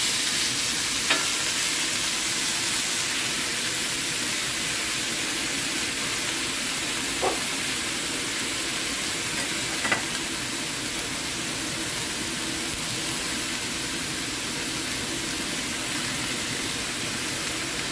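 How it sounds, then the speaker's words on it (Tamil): Cabbage fries in a pan for Sri Lankan egg kottu roti, giving a steady, even sizzle that runs throughout with a few faint clicks and taps. "கேபேஜ் கொஞ்சம் போடுவோம். இது பொரிப்போம்."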